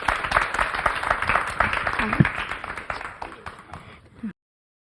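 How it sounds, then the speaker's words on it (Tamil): Steady crowd applause in a hall at a Thirukkural speaking competition for school and college students, dense and continuous, fading slightly near the end, with a voice briefly audible under it. "ஒரு அரங்கம் நிறைந்த கைத்தட்டலுடன்"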